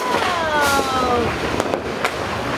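Fireworks popping and crackling outdoors, several sharp bangs over a busy background with faint whistling streaks.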